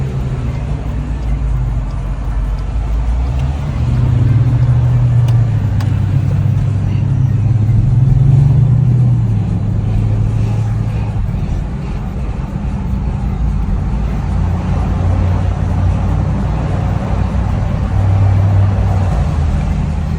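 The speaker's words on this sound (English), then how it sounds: "This damn traffic, it's ridiculous." Car inches along in heavy road traffic, a continuous low engine rumble that swells and eases as it moves, with steady road noise and no talking.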